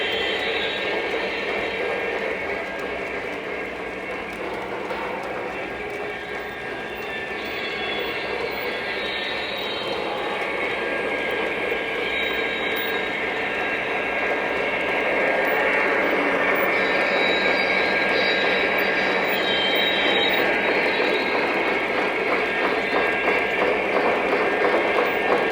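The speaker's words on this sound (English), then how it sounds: "Hear the flat wheel getting loud in the green one there." Lionel model train boxcar with its flat wheel sound effect switched on, a continuous loud rumbling roar that holds steady and grows slightly louder partway through.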